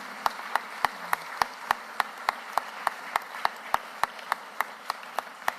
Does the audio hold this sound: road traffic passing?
no